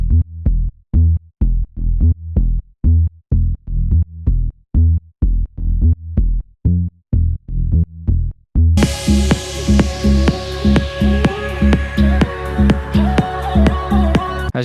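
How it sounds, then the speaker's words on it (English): A soloed house-music bass line in Ableton pulses in short, punchy, evenly spaced low notes with a steady groove, and then the full house track with drums and synths comes in over it. "First thing is bass line."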